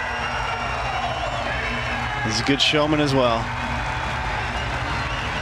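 A home wrestling crowd at an Iowa meet against Army cheers in a steady roar that swells briefly as the athlete fires them up, with a commentator talking over it.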